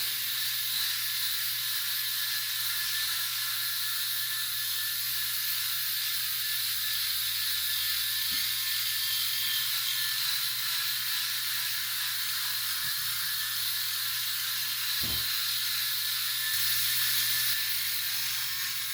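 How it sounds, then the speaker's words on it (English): A Brio Raze 2.0 electric head shaver running over a scalp, a steady high buzzing hiss with a low motor hum beneath, close and constant, with a couple of faint clicks and no talk. "That's a head shave"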